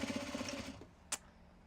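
A sewing machine stitches Japanese fabric for accessories in a quiet room, running in a fast, even burst of needle strokes for under a second before stopping, followed by a single faint click.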